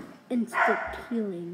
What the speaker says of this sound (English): that's our dog barking